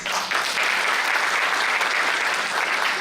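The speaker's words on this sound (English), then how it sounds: "Give a big clap, please." Sustained applause from an audience fills a university hall at a medical college lab inauguration, a dense, steady wash of many hands clapping at once, fairly loud throughout with no talk over it.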